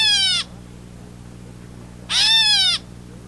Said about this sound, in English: It is a gray catbird, named for its cat-like call.